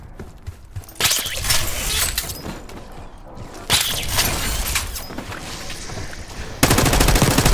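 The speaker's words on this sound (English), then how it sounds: "Are you hearing gunfire?" Gunfire in Call of Duty: Black Ops 6 comes in several bursts of rapid automatic fire that start and stop abruptly. Between the bursts, quieter shots and impacts carry on with no voices over them.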